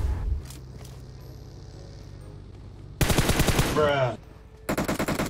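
Automatic gunfire rattles in a video game shooter in two loud, rapid bursts, one in the middle and a second near the end. Quieter game ambience comes before them, and a voice speaks briefly.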